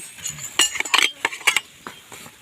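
Plates and dishes set out for a meal of grilled fish beside a canal, bright scattered clinks and clatters of crockery and cutlery, close by and irregular, with no talking.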